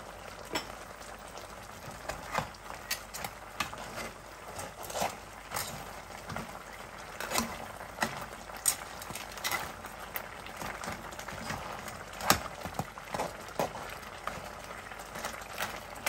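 Crab simmering in coconut milk in a pot, bubbling steadily with soft popping and gurgling throughout, a continuous low wash of boil noise dotted with brief louder bursts.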